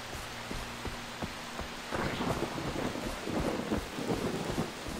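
Steady heavy rainfall hisses across a Far Cry 3 game scene, with low rolling thunder rumbling continuously beneath it and a deeper, louder swell of thunder building partway through.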